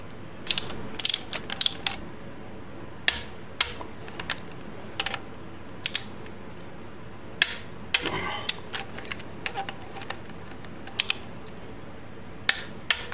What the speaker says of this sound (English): we'll torque them up to 16 foot-pounds